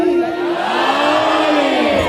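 A crowd at a religious celebration for Imam Husain's birth shouts its answer to the Naara-e-Haidari slogan, a loud, sustained collective roar of many voices that holds steady for about two seconds.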